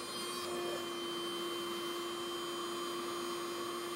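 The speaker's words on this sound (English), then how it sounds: "brush it into a little pile and vacuum it up" Small vacuum sucking up cleaning powder brushed into a pile on an ancient Egyptian museum object, a steady whining motor hum with a constant tone, close and continuous without voices.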